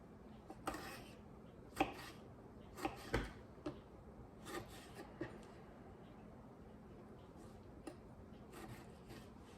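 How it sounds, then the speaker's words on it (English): Vegetables being cut up for a taco salad on a cutting board, with scattered knife chops and rubbing scrapes at an irregular pace, fairly quiet and close, no talking. "let that simmer while I cut up the rest of my vegetables"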